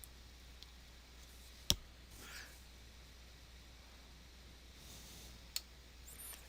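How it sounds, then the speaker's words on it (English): A computer mouse click on a create button in a web page: one sharp, close click with a second softer click a few seconds later, over near silence. "I'm going to just click on create."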